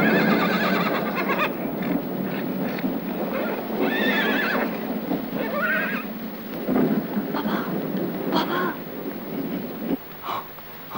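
A horse in an Iranian action film neighs and whinnies repeatedly, its loud, wavering calls standing out over a steady rumbling background, with hoof clops and a stormy wash of rain and thunder-like noise behind.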